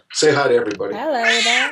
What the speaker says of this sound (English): This is our little tabby